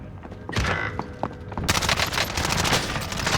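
Rapid automatic gunfire in a Call of Duty: Warzone match, loud close bursts of shots that grow denser and more continuous after a brief pause, with mechanical clatter between.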